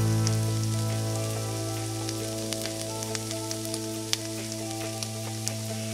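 Coconut milk boils and simmers in a pan with bangun-bangun leaves added, a steady bubbling sizzle with small scattered pops over a low constant hum, close and fairly loud, no voices.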